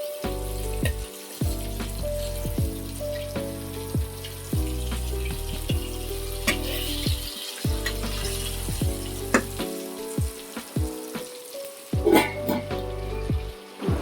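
Fish frying in oil in a pan for Andhra fish fry, a steady close sizzle with a pan tone underneath and occasional clinks and scrapes as the delicate pieces are turned slowly.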